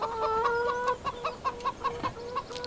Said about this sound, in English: over here is the chicken coop with free chickens